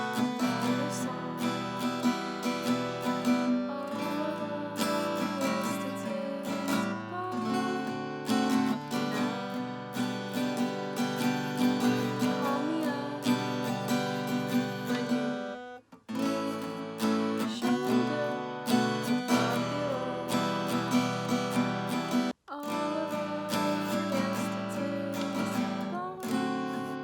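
Guitar strums through the verse chords of a song in a steady rhythmic pattern, full and close, with brief pauses between phrases and no talking.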